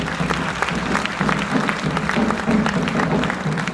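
An audience claps at a presentation event, a dense, steady round of applause from a crowd that holds at an even level for several seconds without fading.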